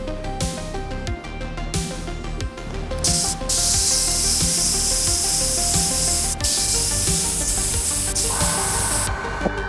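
Aerosol spray paint hissing in steady bursts as a dust coat goes onto a custom Mandalorian helmet indoors, a fan running nearby, with loud continuous spraying and short pauses between passes.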